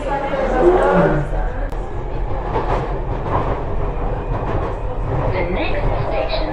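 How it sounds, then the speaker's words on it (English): Victoria Line train on the London Underground, heading for Walthamstow Central, rumbles steadily at close range, a continuous loud low roar with rattling under a voice speaking throughout. "This is a Victoria Line train to Walthamstow Central."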